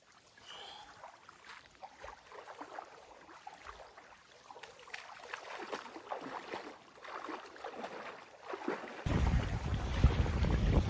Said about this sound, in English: we're about to cross Howell Lake, and it's a little windy